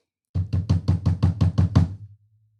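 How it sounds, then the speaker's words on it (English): Close, loud knocking on a door: nine evenly spaced raps in a quick steady rhythm, then a faint low hum lingers. "Somebody's knocking at the door."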